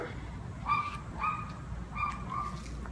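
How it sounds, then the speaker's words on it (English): Several dogs bark in a video game, a few short yapping bursts in uneven clusters at moderate distance over a steady low background hum. "those dogs just kept barking and barking and getting worse and worse"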